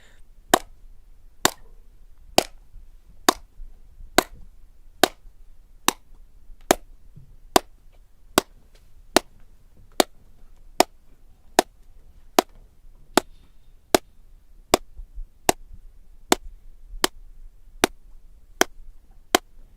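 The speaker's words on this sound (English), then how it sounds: "You can hear how the room deadens echoes by clapping constantly while closing the doors." Single hand claps repeated at a steady, even beat in a sound-deadening foam-lined room as the doors close, each clap sharp and dry with almost no echo trailing between them.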